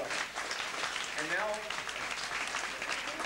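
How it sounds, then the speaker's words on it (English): Audience applause at a holiday show in Florida, a steady dense wash of clapping that fills the whole stretch at moderate level, with brief voices or a tone rising faintly underneath. "Let's have a big round of applause for him."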